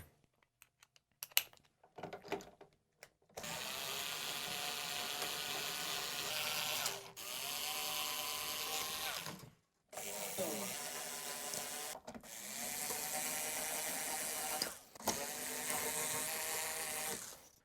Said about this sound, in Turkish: Şimdi telleri sökerek başlayalım.